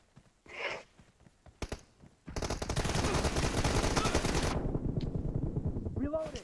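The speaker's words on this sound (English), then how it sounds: "I missed every shot. That was a burst." Rapid burst of automatic gunfire in the PUBG battle royale video game, loud and continuous for about two seconds after a couple of isolated shots, with a player's voice nearby.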